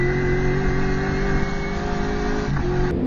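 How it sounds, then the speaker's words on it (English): Throaty, loud rumble of TA2 muscle race cars with well over 500 horsepower, a sustained close engine roar that holds steady before briefly easing near the end. "The throaty rumble, well over 500 horsepower."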